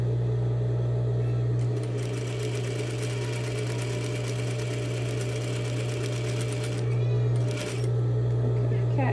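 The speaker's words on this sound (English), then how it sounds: "I'm going to stitch and back stitch as normal" A sewing machine stitches and back stitches a seam sample with a loud, steady motor hum and rapid needle chatter, pausing briefly, while a cat meows and a person talks over it.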